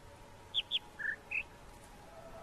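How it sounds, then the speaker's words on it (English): Short bird chirps in the video game The Witness, two high notes followed by two lower ones, faint against a quiet ambient background. "the bird sound changes."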